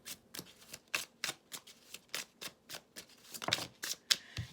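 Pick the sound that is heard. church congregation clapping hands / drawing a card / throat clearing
drawing a card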